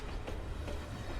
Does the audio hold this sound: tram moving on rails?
yes